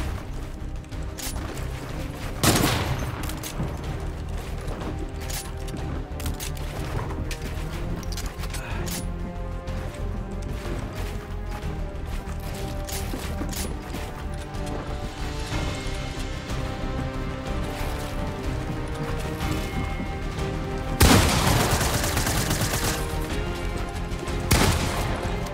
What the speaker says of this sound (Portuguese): Agora eu vou tentar matar ele só na sniper.